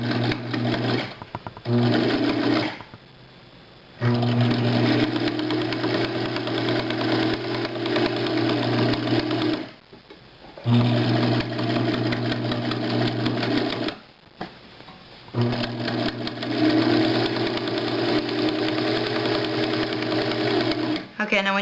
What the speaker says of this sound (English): now I'm going to top stitch all the way around the top of the diaper